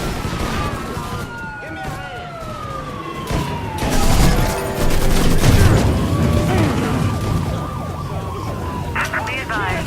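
A gunfight with police in the video game Mafia III, wailing police sirens sweeping up and down over bursts of gunfire and booms, with radio-style voices speaking over the chaotic, loud scene.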